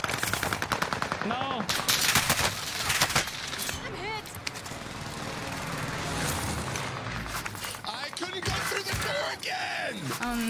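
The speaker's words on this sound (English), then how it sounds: "Airstrike." Airstrike gunfire in a video game: dense rapid automatic bursts and loud impacts fill the mix continuously, with players talking and exclaiming over the shooting.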